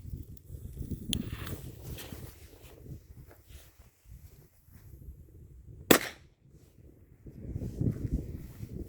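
Two Piromax RC3 firecrackers set off in grass, heard as a loud sharp bang near the start and a second, stronger crack later, each echoing briefly among nearby woods over quiet outdoor ambience and light rustling.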